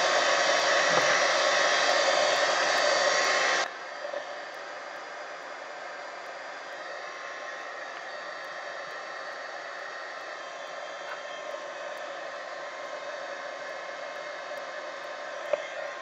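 A heat gun blows hot air to dry acrylic ink on a mixed media art journal page, a steady loud broadband whoosh that drops slightly in level after a few seconds and then runs on evenly to the end.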